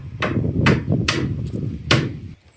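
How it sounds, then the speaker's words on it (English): Window seal on a narrowboat cracking loose as the window is pried out: four sharp, loud snapping knocks spaced through a couple of seconds, close by, over a low rumbling background. "I haven't heard the nice sound of breaking seal."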